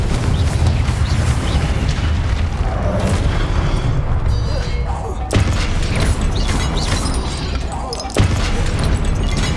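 Loud, dense spell explosions and blasts from Hogwarts Legacy combat, a continuous roar with sharp impacts near the middle and end, while a voice speaks over the action.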